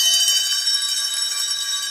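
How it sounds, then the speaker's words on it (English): Several bells in a house ring out together, a bright sustained metallic clangour with layered high overtones, steady and fairly loud with no talk over it. "it soon rang out loudly, and so did every bell in the house"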